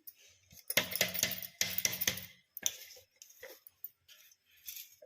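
Besan being roasted over a medium flame and stirred in a metal kadhai: bursts of scraping and clinking metal as the spoon works the pan, separated by short quiet gaps.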